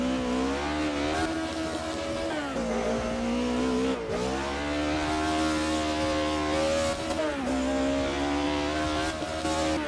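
A race car engine in the iRacing sim on a dirt track revs and winds up and down through the gears, loud and continuous with pitch sweeping rhythmically, with no voices.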